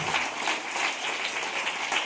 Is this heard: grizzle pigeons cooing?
no